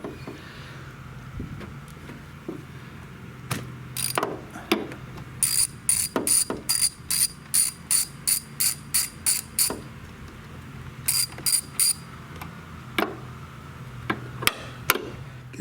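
A ratchet with a 16 millimeter socket clicks in quick, even bursts of pawl ticks, close and crisp, with pauses and occasional clunks between strokes while working on a Mercedes GLE 350 W166.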